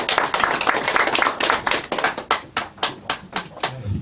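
Lecture audience clapping to welcome a speaker, starting as a full burst of applause that thins into a few distinct, rhythmic claps near the end.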